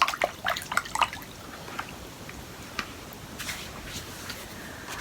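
Water splashes and drips close by in a few quick bursts, then settles into a faint, quiet trickle.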